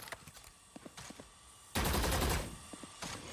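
Gunfire in Valorant shooting through a wall at a Boom Bot: a loud, dense burst of automatic shots lasting under a second in the middle, surrounded by soft footsteps and faint game ambience.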